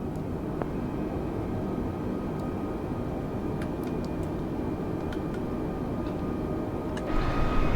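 An Airbus A320 climbs in Microsoft Flight Simulator on a flight from Toronto to Detroit, a steady broadband engine and airflow roar with faint cockpit clicks and ticks, swelling slightly at the end, with no talking.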